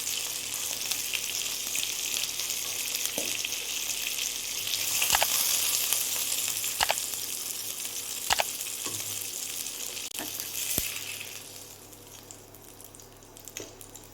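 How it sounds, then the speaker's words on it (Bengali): Pieces of katla fish fry in hot oil in a pan, a continuous close sizzle broken by several sharp clinks of a utensil against the pan as the fish are turned and lifted. "মাছগুলো সুন্দর করে ভাজা হয়ে গেছে"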